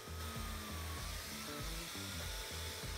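A Rowenta Silence Force Cyclonic 4A vacuum cleaner with a turbo brush runs with a continuous, loud whooshing airflow hum. A faint rhythmic pattern underneath suggests the brush turning or moving over the floor.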